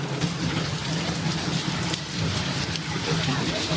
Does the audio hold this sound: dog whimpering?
no